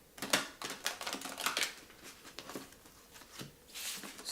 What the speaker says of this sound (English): let's hop into the my largest deck, which is the Archeo deck. And I have to shuffle it from the side.